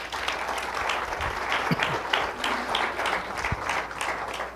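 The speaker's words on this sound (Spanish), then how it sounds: "Dale un aplauso al Señor." A church congregation applauds the Lord in a Spanish-language service, a steady crowd clapping at moderate volume with a few low thumps underneath, continuous throughout.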